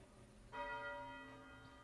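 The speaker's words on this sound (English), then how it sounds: "So we just rang the dinner bell" A single dinner bell struck once at the base of a bell tower in State of Decay 2, a bright metallic clang that rings on with a sustained, slowly fading tone, fairly quiet with nothing else around it.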